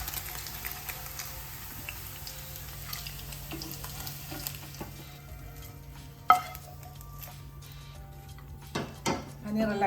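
Paneer cubes frying in oil in a pan, giving a soft, steady sizzle with occasional utensil clinks and scrapes and a sharp knock near the end.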